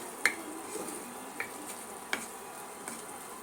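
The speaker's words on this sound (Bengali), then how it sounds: "ধনের গুঁড়া মশলাগুলো আমি ভালো করে এখন কষিয়ে নিব" Quiet, steady sizzling of turmeric, ground coriander and spices sautéing in a pan, broken by a few sharp scrapes and taps of a spoon stirring.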